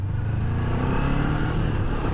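A 2018 Honda CB500X motorcycle being ridden on a test ride course, its engine giving a steady, close, continuous rumble throughout.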